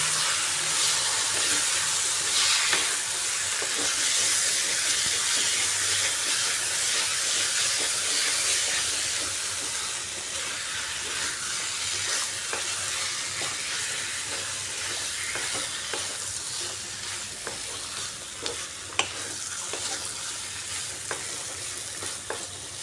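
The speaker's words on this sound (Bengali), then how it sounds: "ঢাকাটা সরিয়ে একটু নাড়িয়ে দিচ্ছি।" Dry chicken sizzling in a pan while being stirred, a steady close frying hiss with scattered scraping ticks.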